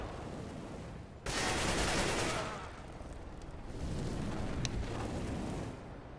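Flashbang and gunfire in Counter-Strike: a sudden loud bright burst after a second, followed by rattling fire and sharp cracks amid a dense, noisy battle mix, with no voices.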